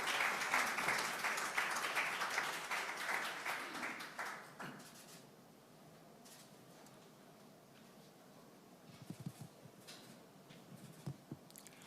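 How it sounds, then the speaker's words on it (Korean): Audience applause at a political party vision presentation as a candidate is welcomed onto the stage: dense clapping for about five seconds, then fading into quieter room murmur with a few scattered claps. "큰 박수로 환영해 주시면 고맙겠습니다."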